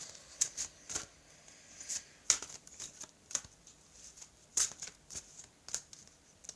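Toltec oracle cards being shuffled by hand, a series of crisp papery riffles and slaps at an uneven rhythm, close and fairly quiet, with no talking.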